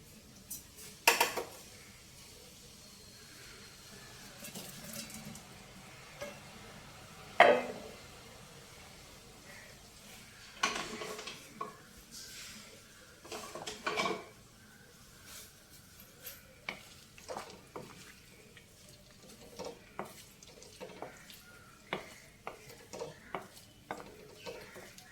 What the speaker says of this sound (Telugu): ఈ కాకరకాయ ముక్కలు మనం నూనెలో వేయించుకోవాలి.